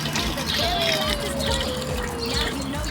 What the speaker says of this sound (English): He's going to pour water now.